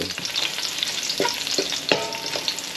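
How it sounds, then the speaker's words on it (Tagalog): Garlic browns in a frying pan for a traditional Filipino chicken tinola, giving a steady close sizzle broken by a few scraping stirs of the spatula, with no voices. "medyo pa brown brown natin ng konti yung bawang"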